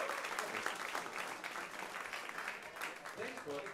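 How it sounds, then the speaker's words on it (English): Quiet, distant-sounding applause from a comedy club audience at a magic and comedy show, a steady patter of many hands clapping with faint crowd murmur under it. "Give Gus a big round of applause"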